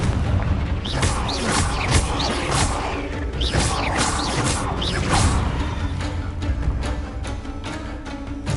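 Confringo fire-spell blasts in Hogwarts Legacy burst out again and again, booming over a dense, busy combat soundscape that never drops out.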